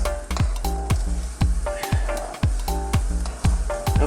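A spoon stirs sweet and sour sauce made with vinegar in a pan, giving a repeated rhythmic scraping and clinking against the metal over a sizzling bubble, fairly close and loud.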